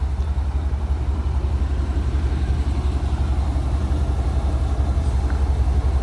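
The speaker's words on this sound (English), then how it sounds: "I'll shut up for a minute so you guys can hear it run" A one-owner GMC Sierra OBS pickup truck with 155,000 miles idles steadily, a low even rumble heard alone and close throughout.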